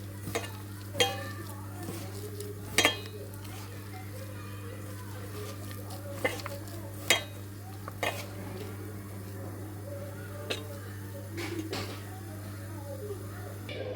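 Dough being mixed and stirred in a bowl while water is added bit by bit, soft scraping with occasional sharp clinks of utensil against the bowl over a steady low hum.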